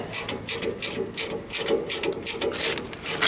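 A ratchet winding in at a discharge valve on a system pumped down to vacuum gives quick, close bursts of metallic clicking in an uneven rhythm, with no talk over it.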